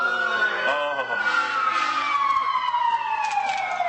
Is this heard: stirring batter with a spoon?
no